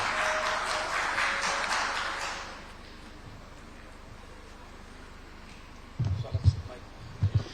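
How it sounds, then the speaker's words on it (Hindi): Loud applause from an audience at a cooperative ministry event welcoming a guest speaker, dense clapping for about two and a half seconds before fading into room noise, with voices and handling sounds returning near the end. "एक बार जोरदार तालियां विश्वास भैया के लिए।"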